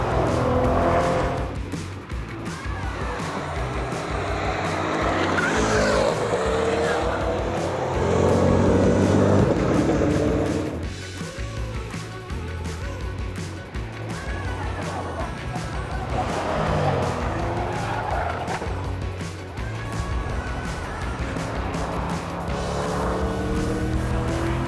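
A 2022 Chevrolet Corvette Stingray Z51 (C8) is driven hard around the Sanair Speedway circuit, its engine surging and falling through repeated acceleration and braking, with tire squeal and passing-car roar, loud and continuous.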